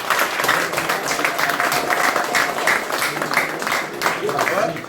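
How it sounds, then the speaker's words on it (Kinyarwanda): Audience at a gathering in Belgium applauding visiting guests from Italy, Switzerland, France and Spain; steady, dense clapping from a crowd fills the whole stretch at moderate loudness. "mufashe tubaha amashyi"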